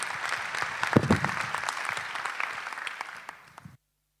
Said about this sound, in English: So a round of applause, please, to Amelie